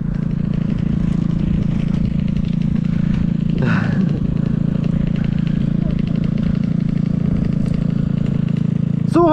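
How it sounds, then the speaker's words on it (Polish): A cheap scooter engine runs with a steady, buzzing mid-pitched drone close by, while a voice breaks in briefly partway through. "To jest latający skuter, Tomek!"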